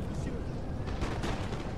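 Dragoons firing muskets in the Napoleon Total War video game: a dense, continuous crackle of volleys with a low booming rumble, steady and loud across the whole stretch.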